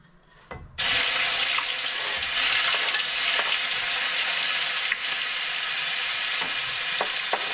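Vegetables sautéing in a hot pan, starting with garlic and onion, a steady loud sizzle that begins abruptly after a brief quiet moment and continues with faint stirring scrapes.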